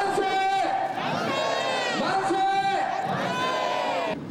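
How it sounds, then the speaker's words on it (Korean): About a thousand Wonju citizens marching through downtown streets chant "Manse" in unison for Korean independence, three loud drawn-out mass shouts rising and falling in a steady rhythm, reenacting the 1919 independence cries. "대한독립을 외치는 함성 소리가 도심을 가득 메웁니다"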